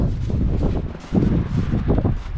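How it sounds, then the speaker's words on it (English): Gusty wind on a snowy day buffets the microphone beside an M915A1 truck with a continuous low rumble, rising and falling in strength outdoors. "Windy and snowy and beautiful day to be out here."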